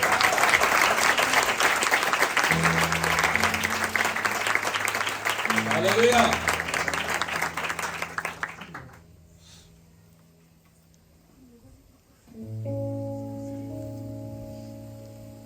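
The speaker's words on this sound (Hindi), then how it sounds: "आए यीशु मसीह जो मैं हूं के लिए भरपूर तालियां बजाएं।" Church congregation clapping at a sermon on Jesus as the bread of life, a dense sustained round of applause for several seconds that fades out, with voices and music coming in afterward.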